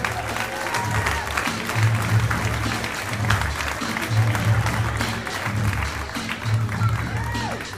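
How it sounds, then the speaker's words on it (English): Audience applause for a stand-up comedian at a comedy show, a sustained dense clapping from a crowd with some cheering, steady for several seconds, over a low pulsing background beat. "Clap it up for Erik Knowles, you guys."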